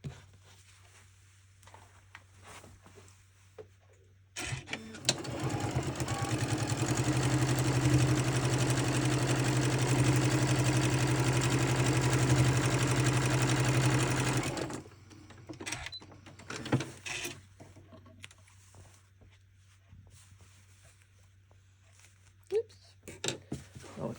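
Sewing machine stitching a fabric seam on a block, a steady whirring motor run of about ten seconds, preceded and followed by quieter handling noises and brief talk.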